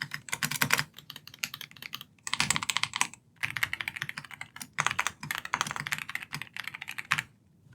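Typing on a Monsgeek M1W aluminium 75% DIY keyboard, brisk clacking keystrokes in bursts with short pauses, close and clear, no talk.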